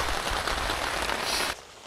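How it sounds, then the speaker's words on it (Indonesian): Light rain patters steadily on a tent or surface at a mountain campsite during a storm, a dense close hiss that cuts off abruptly near the end, leaving a quieter background. "sekarang benar-benar hujan rintik-rintik syahdu"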